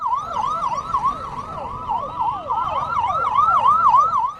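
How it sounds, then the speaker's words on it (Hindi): Police vehicle hooter siren wailing continuously in fast rising-and-falling sweeps, loud and near, with no voices. "केजरीवाल को जेल ले जाती पुलिसिया गाड़ी के हूटर की आवाज"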